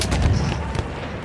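Gunfire and artillery-like booms in the Battlefield 1 multiplayer match, a dense, loud burst of shots and low rumbling explosions packed into about a second, with no voices over it.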